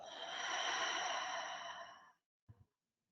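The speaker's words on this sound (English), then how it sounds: "And send it out, exhale." A long, deep breathy exhale during a guided breathing exercise runs close and steady for about two seconds, then stops, followed by a short soft nasal breath.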